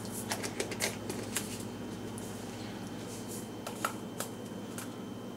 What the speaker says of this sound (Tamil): இப்போ கடுகு வெடிச்சிருச்சு.